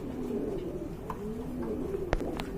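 Pigeons coo at a large pigeon farm, a low, continuous burbling close by, with a faint chirp and a brief knock near the end.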